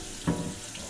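A kitchen tap runs steadily while food is rinsed under it during home cooking, a short, close, even hiss of water with a brief splash near the start.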